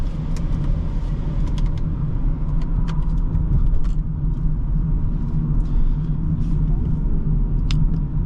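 Steady low road rumble inside the cabin of a 2023 BMW X3 30i xDrive on the move, a hushed, continuous drone with faint tyre noise and a few light clicks, while a person talks over it.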